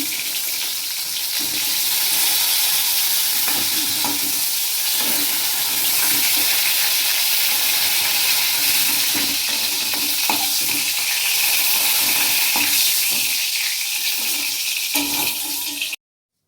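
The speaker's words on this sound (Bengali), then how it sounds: "পটলগুলো আমার ভাজা হয়ে গেছে।" Pointed gourd (potol) pieces frying in oil, a loud constant sizzle with occasional stirring scrapes, running steadily until it stops abruptly.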